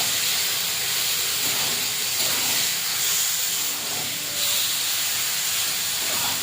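Hand-mixed masala chicken sizzles as it fries in a pan, a loud, constant, spray-like hiss that holds steady with slight swells and no talking.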